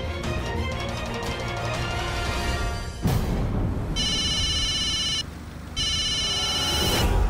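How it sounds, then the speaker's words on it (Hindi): A telephone rings with a bright repeating electronic tone in two bursts, heard after a loud stretch of music, with nobody talking. "प्रीति का फोन"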